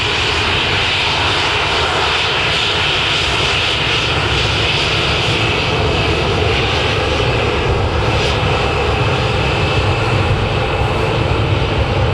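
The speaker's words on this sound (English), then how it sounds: "next up then we have got a Ryanair Boeing 737-800 going to Belfast." Ryanair Boeing 737-800 jet at Manchester Airport, its engines producing a loud, steady, continuous roar that fills the whole stretch without a break.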